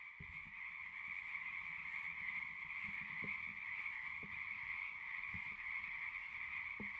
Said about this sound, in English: The frogs are so loud